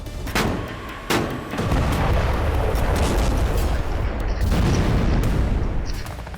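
Repeated heavy booms from Israeli artillery strikes on Syria, two sharp blasts early on followed by a sustained roaring rumble of distant explosions and fire, loud and continuous with no voices.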